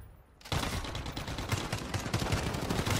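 Gunshots in the video game Call of Duty erupt loudly after a short quiet start, then continue as a rapid, sustained volley of cracking fire with no speech over it.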